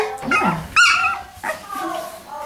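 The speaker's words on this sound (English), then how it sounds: "That's the doggy." A doodle dog barks and yips in short, close, loud bursts, about three or four calls with a whimpering, high-pitched quality, no talking over them.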